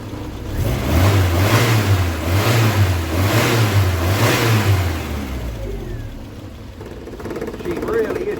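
A Triumph Spitfire classic car engine fitted with electronic ignition runs warm and close by. It revs up and down in smooth, repeated swells, then settles back toward a steadier idle.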